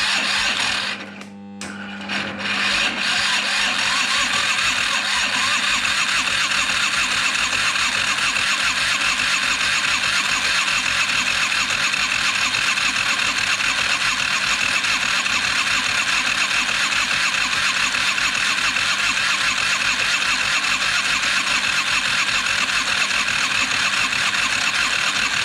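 A 2000 Yamaha XVS DragStar 125 motorcycle engine with its spark plug removed is cranked on a jumper pack. After a brief catch at the start, a loud, steady, buzzing whir runs on without firing.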